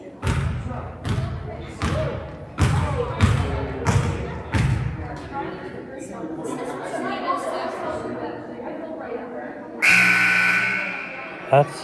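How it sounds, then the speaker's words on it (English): A long loud horn-like buzzer sounds near the end at a school basketball game in a gym, following a series of heavy ball bounces and thuds, with crowd noise and talk throughout. "That's the second buzzer."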